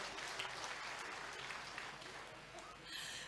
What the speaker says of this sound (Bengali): ওনার জন্য একটা জোরদার হাততালি দেবেন